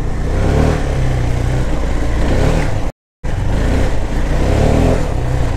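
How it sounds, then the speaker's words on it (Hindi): Loud, deep KTM Duke 390 BS6 motorcycle engine revving under throttle in second gear with a heavy rumble, briefly cut out midway before resuming. "सेकंड गियर में थ्रॉटल देता हूँ तो एक अलग सी साउंड निकलती है"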